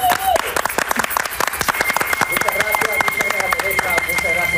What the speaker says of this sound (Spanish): vamos a recibir a Aníbal con este aplauso